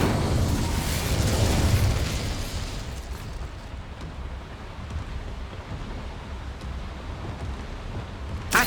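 A fiery Incendio spell in Hogwarts Legacy erupts as a loud roaring whoosh with crackling bursts, then fades into a sustained rumbling fire noise before a sharp pop at the end.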